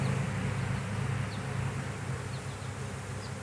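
Honeybees packed into a crowded hive, frames full of eggs, larvae and pollen, give off a dense, steady buzzing hum that stays close and even throughout, with no voices over it.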